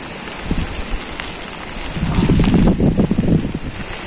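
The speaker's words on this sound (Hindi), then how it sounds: "तो गाइस अभी जो है हल्की हल्की बूंदाबांदी हो रही है" Light drizzle and gusting wind beside a flooded village river during heavy monsoon rains, heard as a steady hiss with buffeting wind noise on the microphone that grows stronger midway.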